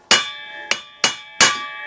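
Four sharp metallic hammer blows ring out on a vehicle driveshaft u-joint, spaced roughly every half second, each with a bright clanging ring that fades between strikes.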